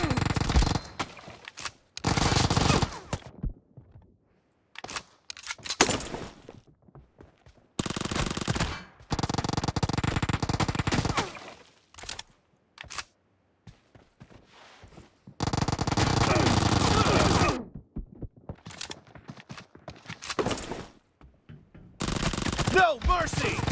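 Rapid bursts of Uzi submachine-gun fire from a PUBG firefight, loud and close, coming in several separate volleys with short gaps between them, plus a few single shots.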